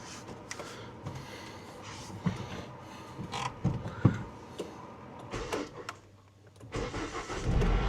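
Engine of a farm machine being started outdoors, with cranking and mechanical clatter building into a running engine toward the end, fairly close and moderately loud.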